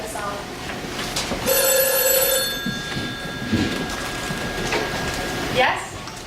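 An old telephone bell rings in a bright, sustained burst partway through, standing out over a room with movement and background noise before it cuts off.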